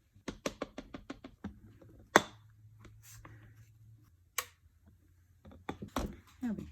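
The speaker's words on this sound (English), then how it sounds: "I'm going to go ahead and stamp my envelope" Rubber stamp tapping down onto an envelope for a Halloween card, a quick series of close, sharp knocks at the start followed by a few isolated taps, with a voice speaking briefly between them.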